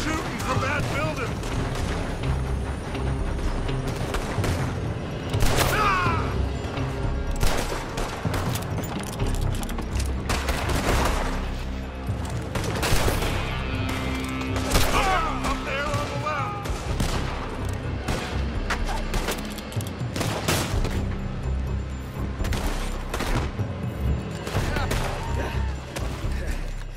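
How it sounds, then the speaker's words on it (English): Dense gunfire crackles from a building during a shootout in the video game Red Dead Redemption 2, with rapid overlapping shots and booms running continuously under a busy mix of game sound and voices. "They're shooting from that building!"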